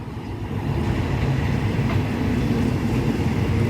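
Low rumbling of a train rolling slowly into Charansanitwong Railway Halt, a steady heavy drone with faint rail noise, no voices.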